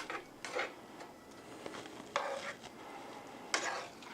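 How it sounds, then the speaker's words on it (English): Ingredients being stirred in a hot skillet, a few scraping spoon strokes against the pan in separate bursts over a faint background sizzle, quiet and close. "just stir it in, no big deal"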